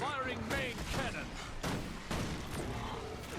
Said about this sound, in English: Firing main cannon.